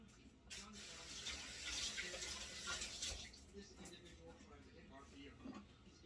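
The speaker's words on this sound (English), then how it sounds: "You rinse my fingers." Tap water runs steadily over fingers at a kitchen sink while making homemade cinnamon, nutmeg and honey butter, a close, continuous splashing that lasts the whole stretch with someone talking over it.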